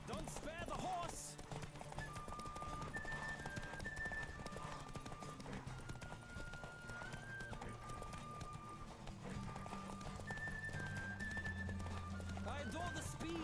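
Horse galloping in The Witcher 3: Wild Hunt, a steady drum of hoofbeats running the whole stretch beneath game music, with a brief whinny and a voice heard in places.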